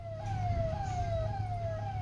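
A fire brigade vehicle's siren wails in a steady repeating sweep, each falling tone restarting about every half second, moderately loud over a low engine rumble at a roadside car fire caused by a short circuit.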